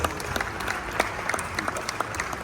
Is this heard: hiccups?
no